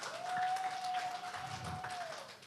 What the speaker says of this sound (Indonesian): Tepuk tangan dong, biar rame.